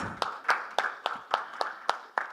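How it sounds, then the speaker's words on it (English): Audience applause at the Global Fintech Fest 2023 payments session for Dr. Kishan Srinivas comes as sparse, evenly spaced individual claps, about eight of them in a slow rhythm, in a quiet hall. "Let's give Dr. Srinivas a warm round of applause."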